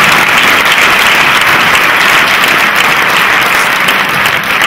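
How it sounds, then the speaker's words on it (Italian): Loud, sustained applause from a large theatre audience at a Neapolitan variety show, dense clapping filling the space without a break, no voices over it. "Un applauso ancora."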